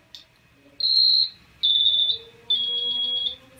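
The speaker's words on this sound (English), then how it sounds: "the beautiful, high-quality speakers will play the sharper flat note in between the whole note" A homemade portable piezo buzzer piano plays three shrill, sustained electronic beep notes in sequence, each about half a second long with short gaps, close and clear over a quiet background.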